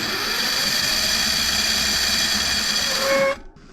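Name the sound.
car alternator bicycle motor accelerating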